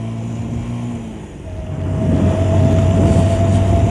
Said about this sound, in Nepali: बाइकको पर्फर्मेन्स हेर्न पऱ्यो नि त